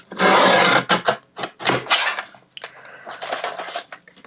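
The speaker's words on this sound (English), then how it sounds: "I'm just going to trim off right along that fold" A recycled Christmas card being trimmed along its fold, heard up close as a series of rough, rasping cutting strokes in quick bursts, loud and alone.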